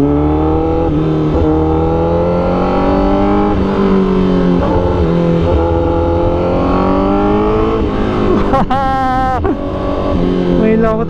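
A Honda Fireblade superbike fitted with a Rapid Bike ECU and SC Project exhaust revs hard and close, a loud sustained engine roar rising and falling in pitch with quick throttle blips near the end.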